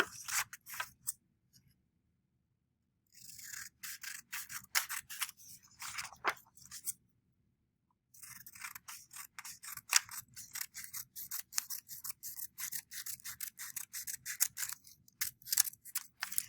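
Scissors snip around a paper flag with quick rapid cuts in bursts, separated by short silent pauses, close and fairly quiet, with no voices.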